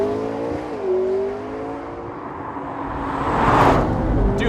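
A McLaren 650S twin-turbo 3.8-litre V8 pulls hard after a downshift, a loud rising engine tone climbing in pitch and swelling toward a roaring peak near the end.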